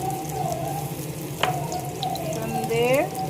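Steady sizzling of an egg roll frying in a pan just after being flipped, a constant crackling hiss with a sharp clink midway and a faint voice-like tone near the end.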